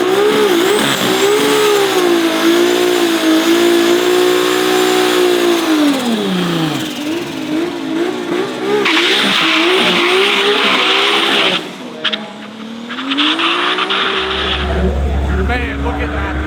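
Powerful drag race cars making fast passes at a rural Thailand drag strip, loud roaring engines revving and rising in pitch as they accelerate past, with tire squeal and crowd-level background noise.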